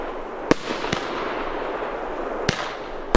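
Comet fireworks launch outdoors with sharp loud cracks and pops, each followed by a fizzing crackle of the effect trailing off.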